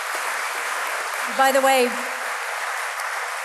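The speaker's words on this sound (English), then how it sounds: "Give him a good round of applause." Audience applause welcoming a lecturer to the podium at an architecture lecture: dense, steady clapping fills the whole stretch, with a brief voice speaking over it partway through.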